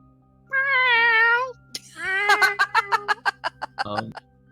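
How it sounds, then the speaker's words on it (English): An alley cat lets out a long drawn meow, then a second wavering yowl that breaks into a rapid series of short chattering cries, loud and close with no talking. "with the noise of an alley cat nearby"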